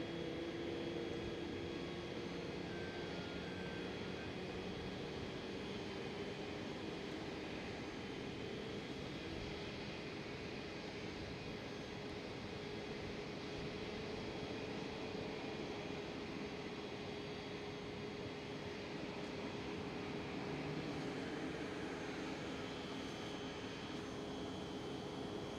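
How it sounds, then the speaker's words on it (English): A Delta Air Lines Airbus A330-900 jet at Amsterdam Schiphol gives off a steady, distant engine roar and broadband rumble that holds evenly for the whole stretch, with no talk over it. "And there goes Delta Airlines A330-900."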